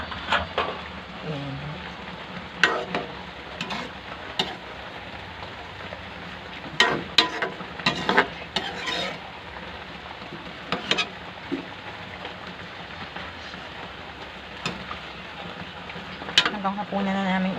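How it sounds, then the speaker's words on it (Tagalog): Chicken adobo cooked in coconut milk simmers under a cover in a pan, giving a steady soft bubbling hiss broken by occasional sharper pops and utensil clicks. "Simmer natin at least 3 minutes."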